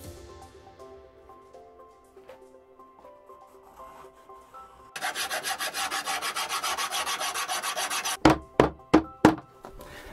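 Poplar plywood being cut into shoe soles with a saw: about three seconds of steady, close rasping strokes after a quieter stretch, ending in several sharp knocks.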